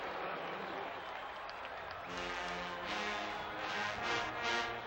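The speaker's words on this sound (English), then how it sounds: "The crowd at the Rose Bowl climbing into this one" A football stadium crowd at the Rose Bowl roars during a college game between Oregon and UCLA, a broad, distant wash of noise that swells toward the end, with a commentator's voice over it.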